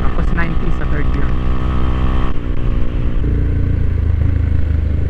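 A Motorstar GPR250 Xplorer motorcycle engine revs loud and close with a dense, buzzing drone. The pitch climbs, breaks off abruptly mid-clip and settles lower, while a rider talks over it.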